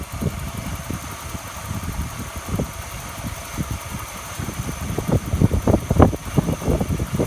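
A 1995 Ford EF Falcon GLI engine idles steadily at close range just after a water pump change, with a low uneven chugging that grows slightly louder and rougher toward the end.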